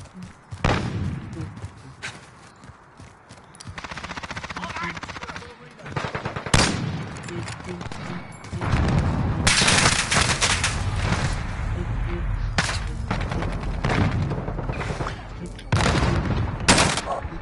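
Gunfire in Call of Duty Warzone: repeated sharp shots and bursts of automatic fire, loud and close, scattered across the span with heavy clusters, under intermittent voices talking.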